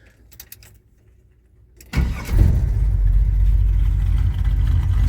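A 1984 Chevy C10 pickup with a 4-speed sits quietly, with faint clicks, before its engine cranks and catches at about two seconds. It then settles into a loud, steady, rumbling idle that continues to the end.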